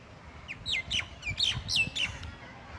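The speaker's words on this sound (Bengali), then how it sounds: "পাখিগুলো ডাকছে দেখুন" Several sharp bird squawks and chirps ring out outdoors in quick succession, each call brief with short gaps, fairly close and clear over low background rumble.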